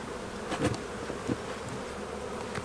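Honey bees drone steadily during an April hive inspection in Minnesota, with a few louder buzzing passes as individual bees fly close by.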